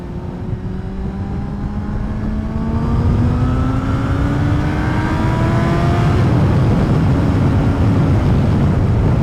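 A 2012 Suzuki GSR750A inline-four motorcycle engine revs steadily upward, its rising tone climbing over several seconds and staying loud and close, with wind noise underneath and no talking.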